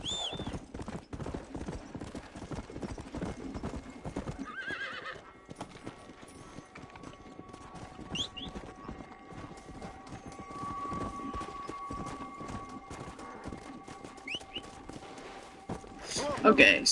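Horse hooves clip-clopping at a steady walking pace in Red Dead Redemption Undead Nightmare, with an occasional whinny and someone talking over the hoofbeats.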